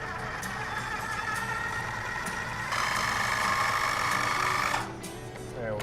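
A blender purees ice cream ingredients for a BLT ice cream sandwich with a steady mechanical whir that rises in pitch and intensity midway, then drops back as the motor slows.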